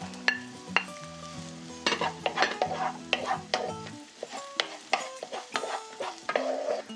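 Egg and shrimp stir-fry in a wok for shrimp fried rice, with a soft sizzle under repeated sharp metal clanks and scrapes of the spatula against the wok, uneven and close.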